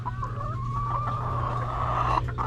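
Pet chickens cluck softly and steadily nearby, with a low continuous hum underneath.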